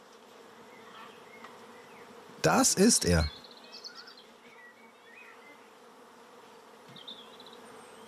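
Honey bees buzz at a beehive during a beekeeper's visit, a faint steady hum throughout, broken by a brief loud knocking burst and a few short spoken words.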